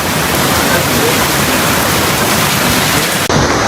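Floodwater rushing through neighborhoods during a Texas flood, a loud, dense, continuous roar of water that fills the whole clip with a brief dropout near the end.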